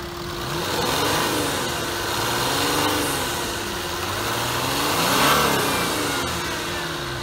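A 2009 Chrysler 300C limousine's Mercedes-Benz V6 diesel engine runs steadily up close, its drone swelling and easing in gentle waves without speech.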